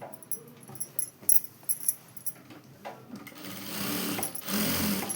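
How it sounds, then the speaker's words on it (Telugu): A sewing machine stitches the band of a work blouse, starting with short bursts and settling into a continuous close whirring run. "ఇప్పుడు పై పట్టి వేస్తున్నా. పై పట్టి వేసుకొని ఎమ్మటే కుట్టేసుకుంటున్నా."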